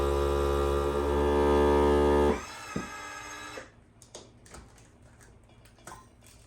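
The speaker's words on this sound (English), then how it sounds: "And you're going to start pulling the vacuum on this jar." A vacuum sealer accessory pulling vacuum on a canning jar filled with dry quinoa: a steady, loud motor hum runs for two seconds, then cuts off, leaving faint clicks and ticks.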